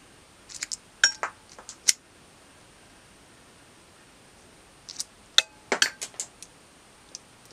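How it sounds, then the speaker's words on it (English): Miniature metal one-third scale Glock 17 replica with a metal slide being racked and locking back, two bursts of small sharp metallic clicks and clinks, close and crisp, separated by quiet. "Slide locks back like a normal Glock when you empty the mag."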